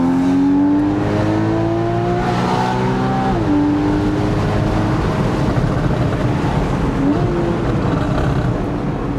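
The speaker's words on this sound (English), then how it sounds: "the obvious thing it's got that you're going to hear now is the Porsche sports exhaust" A Porsche 981 Boxster S sports exhaust revs loudly and continuously, the engine note climbing and dropping in pitch with a throaty roar close by.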